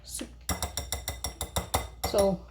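A whisk clinks against a bowl while biscuit dough with cheddar is mixed: about eight quick, bright metallic taps in a steady rhythm, close and fairly loud, after a brief voice at the start.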